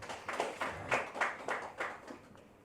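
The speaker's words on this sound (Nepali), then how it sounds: "उहाँलाई जोरदार तालीले धन्यवाद चढाउँ।" Faint, sparse handclaps in an uneven rhythm, about seven distinct claps, thank the vice-chairman at a Magar Day community gathering in Nagoya, Japan.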